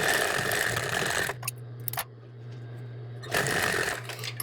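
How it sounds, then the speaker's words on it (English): A sewing machine stitches a hem along the edge of a terry cloth towel with bias tape, running in two steady whirring bursts separated by a low hum pause, close and clear with no talk. "Stitch along the edge to create a hem."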